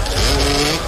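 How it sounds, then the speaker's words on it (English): Racing motorbike engines rev hard and high during a club race at the Lydd circuit, a dense, continuous roar that stays loud and close throughout with no talk. "the engine's revving high, sounding brilliant"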